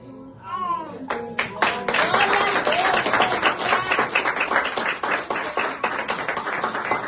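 A church congregation claps together during an evening service, starting after a brief voice and building into sustained, rhythmic hand clapping at close range.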